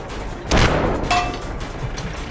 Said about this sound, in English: Even though they weren't spotted, I was still taking shots out at them.